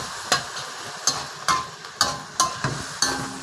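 Mushrooms stir-fried with egg, basil and ground pepper over high heat, with a spatula striking and scraping the pan in about seven sharp, evenly spaced strokes over a constant close sizzle, and no talking.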